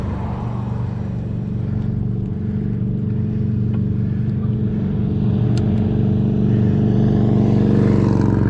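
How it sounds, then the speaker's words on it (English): A vehicle engine drones steadily and close throughout, rising gradually in loudness toward the end as it revs, with a brief faint high tick in the middle while riding through town traffic. "Truck coming, I can go."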